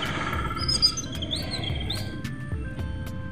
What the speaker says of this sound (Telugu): పక్కన పిచ్చుకల సౌండ్లు వినిపిస్తున్నాయి కదా.